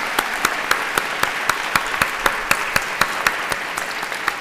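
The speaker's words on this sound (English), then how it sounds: "you really deserve a round of applause" Audience applause at a 25th anniversary celebration, steady dense clapping from a crowd with sharp rhythmic accents, moderately loud and continuous without talk.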